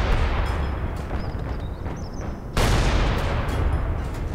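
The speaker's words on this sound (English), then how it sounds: "Coordinated artillery fire is on the way." Artillery fire in a Company of Heroes style war game, a dense rolling barrage of booming blasts and crackling gunfire that surges sharply louder midway, continuous and heavy with no talk.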